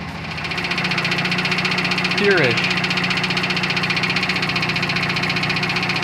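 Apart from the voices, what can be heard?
knocking noise from car front differential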